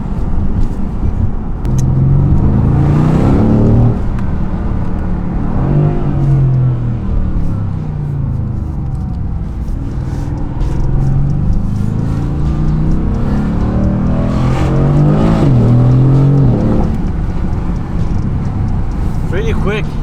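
A car, a Rolls Royce Wraith or a custom Vanderhall, accelerates with a deep engine rumble that swells in repeated revving surges, close and loud, while people talk over it.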